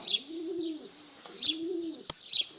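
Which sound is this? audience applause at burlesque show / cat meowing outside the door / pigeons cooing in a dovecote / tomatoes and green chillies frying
pigeons cooing in a dovecote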